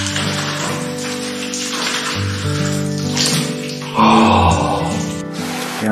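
Water from a camping shower bag pours in a steady splashing stream in a bathroom with no running water, growing louder and brighter near the end.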